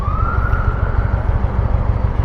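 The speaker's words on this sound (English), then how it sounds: "I hear an ambulance. I guess it was on the interstate." An ambulance siren on a distant interstate wails steadily with a rising and falling tone, carried over a constant low rumble of wind and road noise, with no talking.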